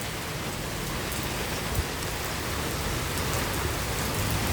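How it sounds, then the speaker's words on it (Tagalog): Steady rain pours during a storm in Bavaria, a dense even hiss of drops striking surfaces with no letup, fairly soft and unbroken. "Ang tulo sa ulan. Tatak sa ulan."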